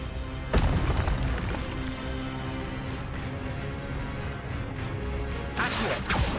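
Expelliarmus spell cast in Hogwarts Legacy, a sharp burst early on followed by a steady hum of game sounds and a second bright whoosh near the end.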